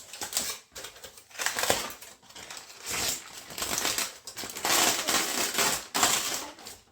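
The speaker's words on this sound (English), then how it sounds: "now it's time to unwrap them and check them and slice them" Foil wrapping being pulled off smoked spare ribs cooked on a Franklin BBQ offset smoker, a loud close crinkling and rustling that runs almost continuously with brief dips.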